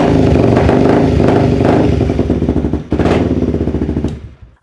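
A Honda CBR 250R motorcycle with a loud exhaust idles and revs up close, a rough, throbbing roar with a couple of sharp throttle blips near the end before it settles and fades.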